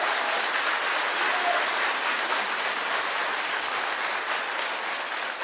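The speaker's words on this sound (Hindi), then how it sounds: "जोरदार तालियों से इनका स्वागत है।" Dense, continuous applause from a crowd of Congress party workers at a meeting in Srinagar, welcoming Rahul Gandhi; a loud, even wash of many hands clapping that holds steady throughout without a break.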